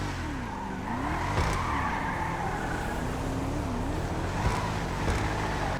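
Car engine revving with skidding tire squeals in the GTA 5 Online video game, a steady loud engine drone with pitch sweeps and several sharp skid bursts, no talking.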